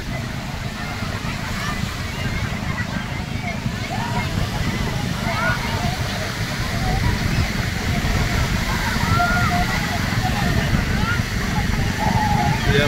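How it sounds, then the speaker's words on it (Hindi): Strong sea waves surge and crash at Mandvi beach in Kutch, making a loud, continuous roar of surf with voices audible among the crowd on the shore. "क्या गजब की लहरें आती है यहाँ पे"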